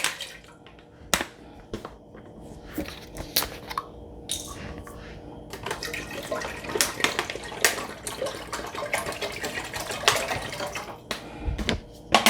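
Water poured from bottles into a pot to boil macaroni for macaroni and cheese, with irregular splashing, gurgles and drips and several sharp knocks and clunks over about twelve seconds, no voices.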